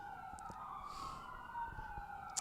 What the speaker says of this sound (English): All right, somebody died because that's an ambulance.